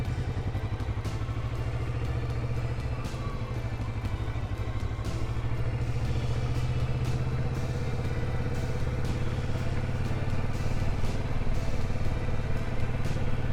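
A motorcycle with a quiet stock exhaust cruises along a wooded road, its engine a steady, soft, sewing-machine-like drone with low rumble and light clatter, holding an even pace throughout.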